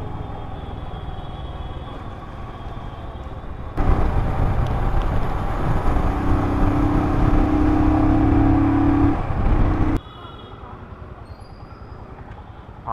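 Road traffic on a busy street, with steady engine rumble and whirring vehicles passing close by, swelling louder for several seconds in the middle and then dropping back to a lower, continuous hum.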